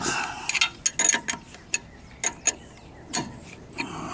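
A nut on a Jeep Wrangler JK front shock absorber is tightened with a wrench, giving sparse metallic ratcheting clicks and clacks in short irregular bursts, close up, with no talking.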